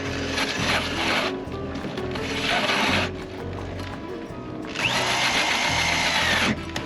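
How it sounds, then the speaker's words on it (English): A hole saw drills holes aboard a boat, whining loudly in two long bursts separated by a quieter pause, then starting up again for a third sustained stretch. "This for drilling holes."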